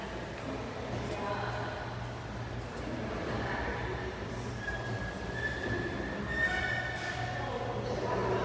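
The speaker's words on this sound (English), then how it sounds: "there's a train that's going to be going down to Miami from here" An Amtrak train at a Florida station rumbles steadily, with faint squealing and metallic wheel tones rising in the middle and later, and distant chatter in the background.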